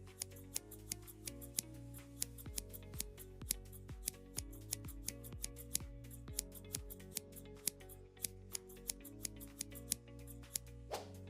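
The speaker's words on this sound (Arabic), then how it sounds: "هبدأ افرغ الشكل ده بالماوس." A craft knife cuts out a paper shape, making a quick run of sharp, crisp clicks and snips close by, closely spaced and fairly quiet against near silence.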